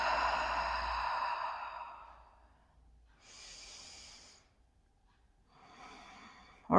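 Deep breaths during a yoga pigeon pose: a long, loud exhale, then two softer breaths separated by quiet pauses, close to the microphone.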